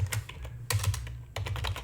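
Quick computer keyboard typing, with crisp, close clicks in fast irregular bursts separated by brief pauses.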